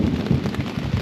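Rain falls steadily during a mountain thunderstorm, a dense close hiss of drops with faint low rumbling underneath, without voices.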